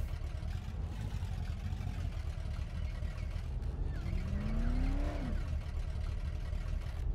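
Broken-down car driving in the game Dead Island: a continuous engine hum with a noisy low rumble throughout, rising in pitch briefly near the middle as it revs, fairly faint and steady.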